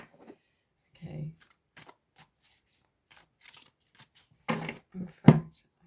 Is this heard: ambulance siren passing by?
no